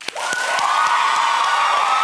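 Studio audience at a talk show on a presidential-candidacy topic bursts into clapping and cheering, with a dense wash of applause and shouts that swells quickly and holds loud to the end.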